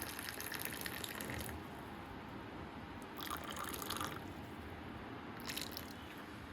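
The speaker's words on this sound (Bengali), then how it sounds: "ছাকনিটা করি। চা পাতি পড়তেছে কিন্তু।" Tea trickles through a strainer into a cup in a steady, soft, close pour, with faint splashes rising and falling in brief surges.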